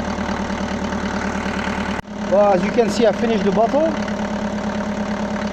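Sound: Mercedes-Benz W124 engine running during water decarbonizing

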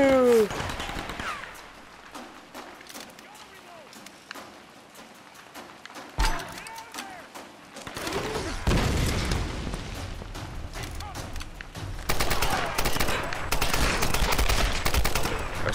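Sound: machine gun fire in Tomb Raider 2013 video game

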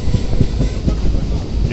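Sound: train entering Bandel station

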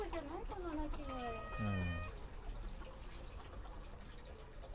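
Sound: young stray cat meowing at a shrine

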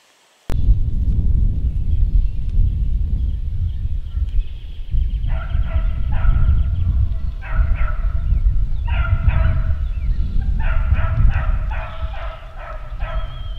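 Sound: beagles barking at campsite

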